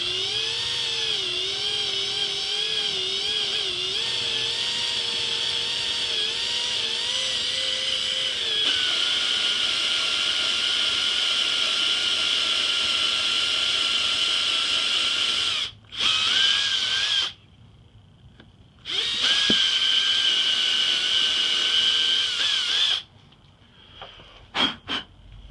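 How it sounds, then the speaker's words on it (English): A power drill bores a hole for a tap, its motor whining steadily and shifting pitch partway through, then stopping and restarting in short bursts near the end, loud and close. "I'll be drilling this very carefully, hopefully"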